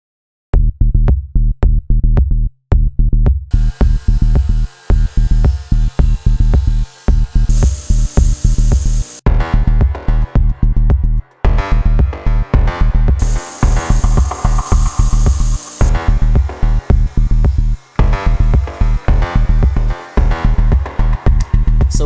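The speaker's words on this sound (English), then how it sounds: "I'm bringing down the bevel to final dimensions. Right now I'm using a 240 grit belt" A 240 grit belt on a belt grinder grinds the bevel of a handmade knife blade, a loud, steady abrasive roar broken into repeated short passes with brief gaps between strokes.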